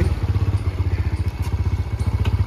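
A new motorcycle starts up and settles into a steady, loud, close engine chug with fast regular pulses, a few light clicks and clatters on top, and no talking.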